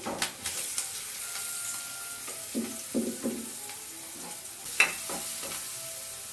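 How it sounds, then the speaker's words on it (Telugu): Chillies and onions fry over high flame in a pan, a steady close sizzle broken by several clanking stirs of a spatula against the pan. "మంచిగా ఫ్రై అవ్వాలి మొత్తం కొంచెం సాల్ట్ మంచిగా ఫ్రై అయిపోవాలి ఇవన్నీ"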